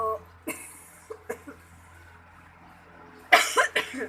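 Someone with a sore throat coughs nearby, a few scattered coughs early and then a harsher burst of three or four coughs at the end.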